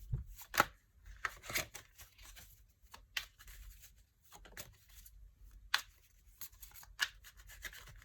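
Tarot cards are shuffled into a deck up close: soft papery riffles, slides and sharp flicks come in irregular bursts over a quiet background, with no voices.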